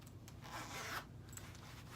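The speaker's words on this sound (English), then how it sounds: "this part is like the most difficult part for me to zip up" A zipper on a waist trainer being drawn up slowly with effort, a steady close rasping slide with small catches and tugs, rubbing fabric around it, no talking.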